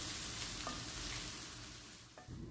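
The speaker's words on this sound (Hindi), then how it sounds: "तो जब तक प्याज फ्राई हो रही है" Finely sliced onions fry over medium-high flame in hot oil in a kadhai, a soft, steady sizzle with a couple of light stirring clinks and no voices.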